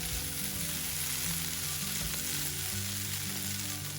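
Raw banana curry with green chili spice frying in a pan while it is stirred gives a steady, dense sizzle, with faint tonal background music underneath throughout, and no talking.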